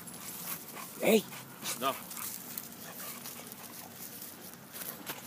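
A Boxer dog whimpers and yips in a couple of short, high bursts near the start, under a man's speech outdoors.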